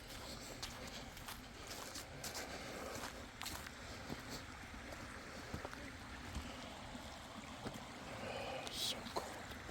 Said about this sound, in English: Alright, I can hear water